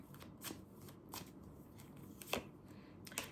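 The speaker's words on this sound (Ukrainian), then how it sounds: "З кожної колоди я витягаю по три карти." Tarot cards being shuffled and drawn from a deck, soft papery flicks with a few sharper snaps, no talking.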